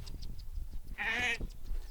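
A Dorper sheep on a farm gives one clear, loud bleat partway through, with other farm animals and outdoor activity around it.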